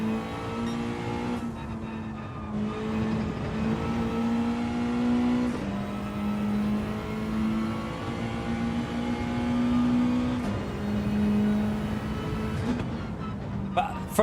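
A Citroen race car engine in Gran Turismo 7 drones loudly and steadily, its pitch climbing through each gear and dropping sharply at the shifts, which come about every four seconds, with no talk.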